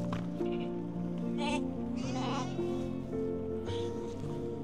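Lambs bleating repeatedly in a high mountain farm shed in Artvin, several overlapping calls close by with steady background noise.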